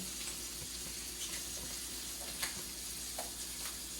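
Paneer cubes fry in a pan, giving a soft, continuous sizzle with scattered faint clicks and taps as pieces are turned; no voices are heard.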